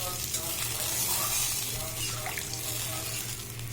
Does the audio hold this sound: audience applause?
no